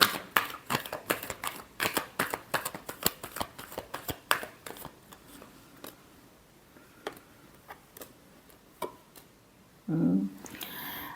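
Tarot cards are shuffled in quick riffling bursts of crisp slaps and clicks, tapering into sparse taps before a brief soft rustle near the end.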